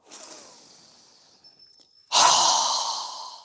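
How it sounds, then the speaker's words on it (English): A strong, forceful exhale through a wide-open mouth during yoga breathing. A softer breath trails off first, then a loud, close, breathy rush of air bursts out and fades slowly. "exhale with our mouth open wide with a strong exhale as we lower our arms and hands down"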